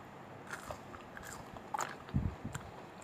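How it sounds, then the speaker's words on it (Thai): Homemade crispy fried potato strips being bitten and chewed close up, a few sharp crunches with a louder burst of chewing near the end over a quiet room. "มันฝรั่งทอด กรอบนะคะ"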